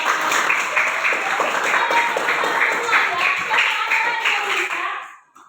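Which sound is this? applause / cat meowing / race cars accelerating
applause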